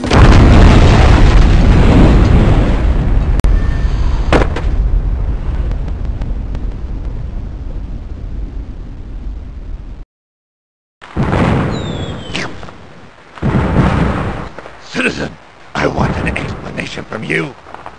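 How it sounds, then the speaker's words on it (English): Crates of firecrackers exploding in the video game Normality, a loud booming blast with crackling that fades out, followed after a brief silence by sharper bursts and pops. "Those crates are full of firecrackers!"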